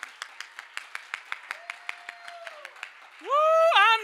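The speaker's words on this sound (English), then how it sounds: "put your hands together in this house and clap for the Lord" A church congregation claps for the Lord in a quick, steady rhythm of sharp, evenly spaced claps, with a sustained voice underneath that breaks into a loud, rising shout near the end.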